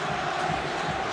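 Swiss supporters at a Euro 96 football match against England make a dense, steady crowd roar, a broad continuous wash of voices with a faint chant-like tone running through it.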